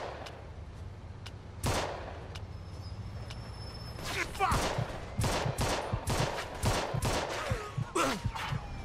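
Rapid bursts of gunfire from a shootout with police in Mafia 2: Definitive Edition, scattered single shots at first, then dense repeated volleys that crack loudly over background game noise.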